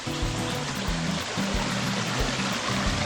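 Small stream flowing beside a tea plantation in Sri Lanka, a close, continuous burbling rush of water with no voices.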